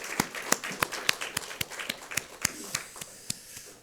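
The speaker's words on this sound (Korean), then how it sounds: "우리 찬송 가운데 임하신 하나님께 감사와 영광의 박수 올려드리겠습니다" Church worshippers clap during a Sunday morning service. Sharp, distinct claps come at a steady, fairly quick pace, close and clear, with few other sounds around them.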